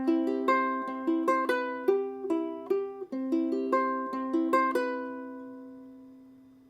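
Ukulele fingerpicks the pattern from a song, clean plucked notes in a steady repeating rhythm, quiet and close, the last notes ringing out to silence.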